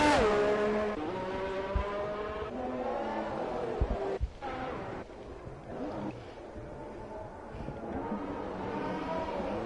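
Sim racing cars lapping the Catalunya circuit in a racing video game, with a steady droning engine note that rises and falls through gear changes, continuous and fairly close throughout.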